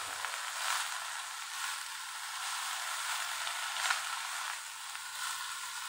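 Water spinach (kangkung) stir-fries in a pan with a steady, bright sizzle that holds throughout, with small bursts of crackle rising and falling. No one speaks over it.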